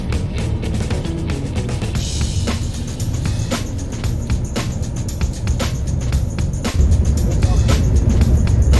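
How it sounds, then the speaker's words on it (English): Motor coach driving through Hong Kong toward Hong Kong International Airport, a steady low road rumble from inside the vehicle with intermittent clicks and knocks, growing louder and heavier near the end. "Our journey ended with a motor coach ride to Hong Kong International Airport"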